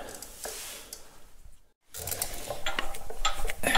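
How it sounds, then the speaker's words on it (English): A torque wrench turns the bevel shaft of a Caterpillar D2 crawler tractor during a chassis rebuild, giving faint metallic clicking and ratcheting with small clanks in a quiet workshop, broken by a brief silent gap. "Let's put the torque wrench on there and see where we're at."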